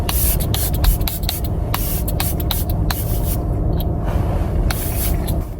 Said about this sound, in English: Clarins makeup spray.